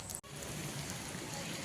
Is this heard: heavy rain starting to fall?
yes